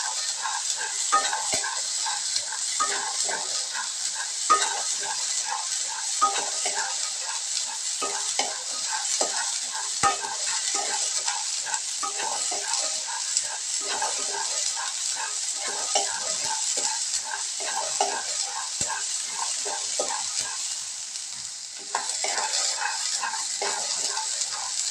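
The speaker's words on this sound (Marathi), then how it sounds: "थोडंसं भाजून घ्यायचं आता, जेणेकरून आपल्या रस्स्याला टेस्ट येईल." Green moong and desi chickpeas dry-roast in a pan, giving a continuous dense crackling and sizzling hiss with frequent small pops and stirring scrapes, steady throughout without talk.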